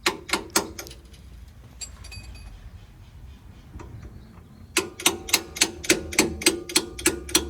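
Sharp metallic hammer strikes on a stuck ball joint bolt of a 2007 Toyota ring out in a steady rhythm, a few at the start and a quicker run of about ten blows at the end, with a quieter gap between.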